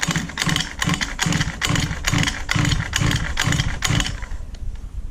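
A gas engine on a 1/5 scale RC buggy is pull-started again and again, each rapid, rhythmic rope pull sputtering close and loud without catching, then fading at the end.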